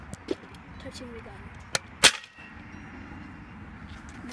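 Airsoft gun fired at a styrofoam cup, with one sharp loud crack and a couple of smaller clicks and taps before it, close up, followed by low background noise and no talk.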